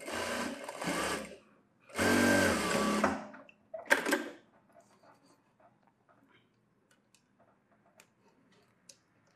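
A sewing machine stitches a blouse band in three quick motor bursts, each a second or so long, followed by quiet faint clicks and handling sounds.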